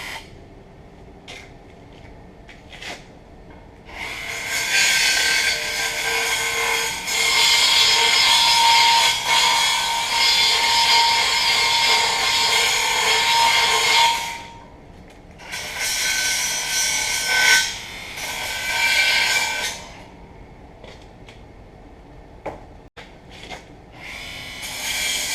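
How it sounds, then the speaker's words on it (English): A small belt sander with a 3/4-inch belt runs in loud, sustained bursts of high whirring grind, stopping and restarting, with quieter gaps of faint taps and handling noise between runs. "I have a little belt sander. It's the belt's 3/4 of an inch wide."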